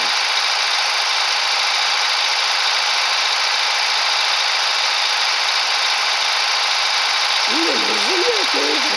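Tractor engine in Farming Simulator 14 drones steadily and loudly, a constant broadband hum with no change in pace, and a short voice sound enters near the end.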